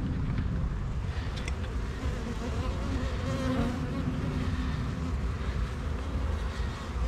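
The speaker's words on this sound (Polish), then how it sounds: "Widzicie, ile pszczoły?" A steady, dense buzzing of many bees around a hive fills the air close by, continuous throughout with no voices.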